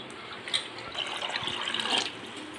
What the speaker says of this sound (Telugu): ఒక కుక్కర్లో అయితే వేసేసి వాటర్ వేసి ఉడికించుకోవాలి అంతే